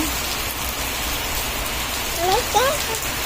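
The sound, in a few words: afternoon rain falling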